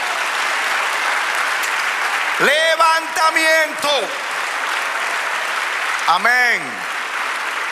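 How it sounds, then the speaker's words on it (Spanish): Church congregation applauding the Lord during a sermon, a continuous loud wash of clapping that runs the whole time while a preacher speaks briefly over it. "Otro aplauso al Señor"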